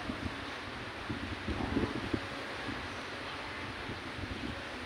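Warm breeze blowing at a beach hotel and resort, a steady windy rush with muffled buffeting against the microphone and faint rustling, no talking.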